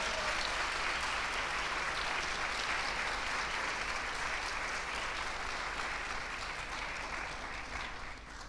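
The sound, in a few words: congregation applauding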